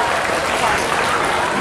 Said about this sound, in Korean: 다시 한 번만 큰 박수 한번